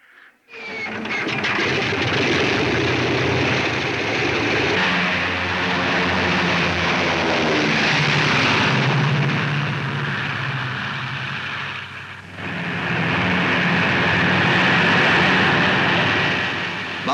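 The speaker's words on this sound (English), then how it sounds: "Bouncing down the improvised metal runway, they head straight for the enemy target" Propeller engines of WWII P-40 fighter aircraft roar steadily as the planes taxi and bounce down an improvised metal runway, loud and continuous with a brief dip before swelling again.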